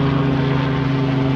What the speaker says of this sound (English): That would be a helicopter flying right overhead here.